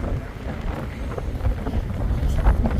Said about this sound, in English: Wind's just pushing us along. Woo! Oh, actually, hard wind.